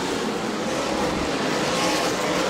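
Race cars roar around the track during a weekly race night at Auburndale, a continuous, loud, dense engine drone with no break in the noise.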